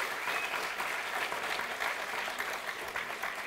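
An audience gives steady, dense applause welcoming performers trained at CCRT, a continuous wash of many hands clapping at even volume, heard alone with no talk over it.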